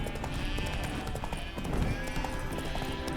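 A horse's hooves clip-clop at a steady walking rhythm in The Witcher 3 video game, loud and close over background music and ambience.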